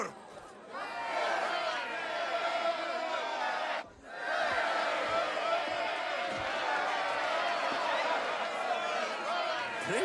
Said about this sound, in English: Enjoy the crowd's reaction